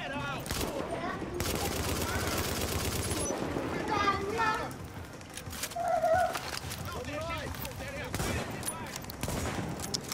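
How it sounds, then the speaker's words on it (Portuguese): Gunfire in the video game The Division, repeated bursts of shots crackling through a street firefight, under and between voices speaking Portuguese. "Quem tá atirando em mim, velho?"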